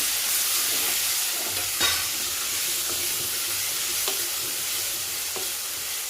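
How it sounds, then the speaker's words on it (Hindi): Finely chopped tomatoes hitting a pan of frying masala for whole masoor dal, giving a loud continuous sizzle with occasional scraping clinks of a stirring spoon, close up and steady throughout, no speech. "अब इसी के अंदर 2 टमाटर डाल दीजिए, चॉप करके बारीक अच्छी तरह से चॉप कर लीजिए।"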